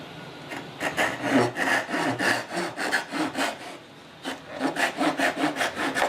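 A hand saw cuts a wooden tenon on the lower side stretcher of a Queen Anne chair in rapid rhythmic strokes, pausing briefly midway before resuming, close and clear with no talking.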